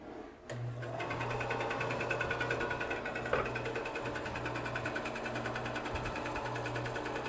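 A bandsaw cutting wood in an old seaside Victorian cottage workshop: the motor starts up with a click and then runs as a steady continuous whir with a rapid buzzing rhythm, with no voices heard.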